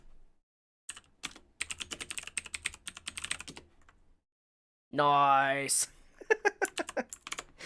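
Rapid clicking keystrokes on a computer keyboard come in quick bursts with pauses between, close and crisp, interrupted by a single spoken word.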